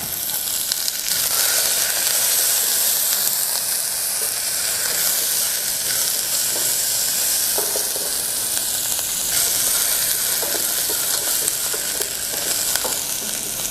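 Onion and garlic fry in about 1.5 tablespoons of hot oil for a bulgur and chickpea pilaf, giving a loud, continuous sizzle up close with a few soft crackles and stirring scrapes and no talk.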